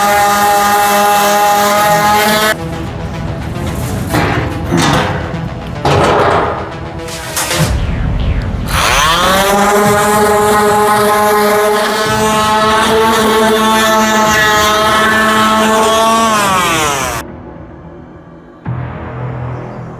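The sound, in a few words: sanding floor pan panel with 80 grit sandpaper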